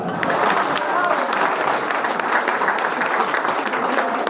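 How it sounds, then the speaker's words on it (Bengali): Audience applause at a business talk, a dense, even burst of many hands clapping that holds at full strength throughout, with voices mixed in. "করতালি হবে একটা।"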